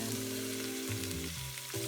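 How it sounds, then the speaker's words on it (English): Butter sizzles and pops steadily in a hot pan, a constant crackling hiss with tonal hum shifting underneath. "After that butter starts melting, sizzling, popping at you, drop the veggies in."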